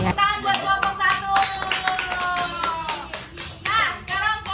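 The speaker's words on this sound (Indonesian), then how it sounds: "tepuk tangan buat kelompok 1" A classroom of children clapping for group 1 in scattered, uneven bursts, with children's voices talking and calling out over the claps throughout.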